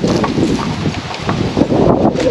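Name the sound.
wind blowing outdoors by greenhouse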